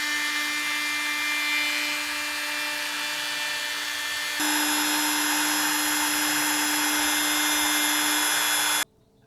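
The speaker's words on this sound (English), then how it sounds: "I'm going to router out like a 1/8 inch round over on the edges here with the router all the way around" A handheld router cuts a 1/8 inch round-over along the edges of a Jeep seat-delete platform, a loud, steady high-pitched whine that shifts pitch midway and cuts off abruptly at the end.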